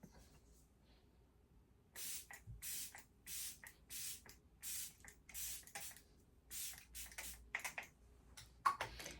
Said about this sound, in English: so this is the ColourPop Pretty Fresh Lock It In spray.